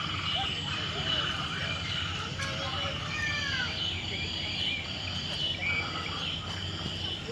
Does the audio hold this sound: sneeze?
no